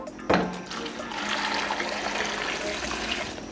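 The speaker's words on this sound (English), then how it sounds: "we cook our garden eggs with water" Water pours steadily over garden eggs, the small eggplants, in a cooking pot for a Ghanaian stew, a close, continuous rushing splash that starts with a clunk and keeps going.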